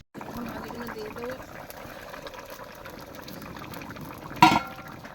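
Pieces of fish slide into a pan of simmering fish curry, a steady bubbling broken near the end by a short, louder splash and sizzle.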